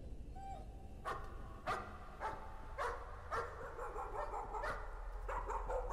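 Dog barking in the horror video game Layers of Fear: a series of repeated barks and yips at a steady pace, moderately close, over a low rumbling ambient background with no talk.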